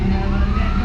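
Fire truck siren wailing as the engine arrives at a large blaze at a home center in Tanauan City, loud and close, a brief steady tone over rumbling traffic.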